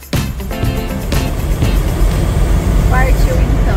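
Inside a car near Bariloche, the heater fan runs at full blast, a steady loud whoosh under road and engine rumble, with people talking over it.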